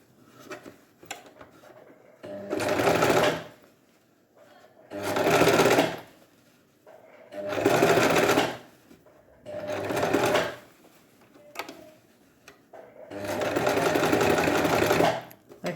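A sewing machine stitches a set-in sleeve in five steady runs of rapid whirring, each a few seconds long, split by short pauses with faint handling clicks, heard close and clear.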